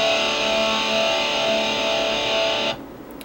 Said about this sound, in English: I find it smoother if you just mute the high E with your other fingers